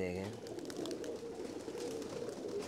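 Low continuous cooing from Kamgar blue pigeons kept in a home loft, fairly faint, with a brief voice at the start.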